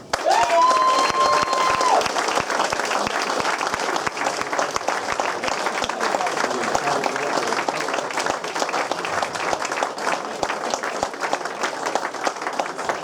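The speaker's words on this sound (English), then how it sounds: "if we can give him a big round of applause" A hall audience at a football club presentation evening gives Paul Miller a big, sustained round of applause, dense clapping filling the room at a steady level throughout.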